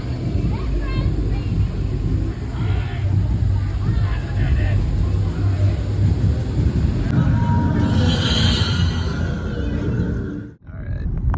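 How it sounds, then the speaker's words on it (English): Heard from inside a moving car, a constant low engine and road rumble fills the cabin while people talk over it, easing briefly near the end. "All right, well, we're driving now."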